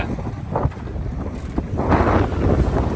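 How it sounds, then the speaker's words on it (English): Strong 25-knot wind gusts roar and buffet the microphone steadily at a boat's anchorage, with a deep rumble and rushing swells, no voices present. "an anchorage, a very strong wind, 25 knots."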